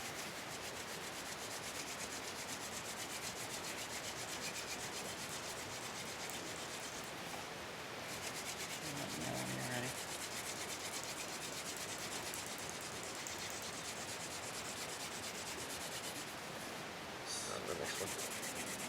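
A wooden spindle is spun between the palms on a board for a bow-less hand drill friction fire, giving a continuous dry rubbing hiss with brief pauses, close and fairly quiet.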